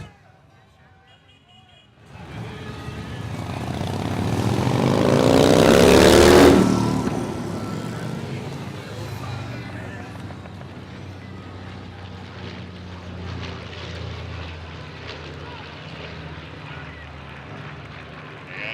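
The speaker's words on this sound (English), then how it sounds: "Another one of our traditional flyovers, that would be the B-25." A B-25 bomber passing over a Memorial Day parade, a broad engine roar that swells over several seconds, peaks overhead and fades into steady distant crowd noise.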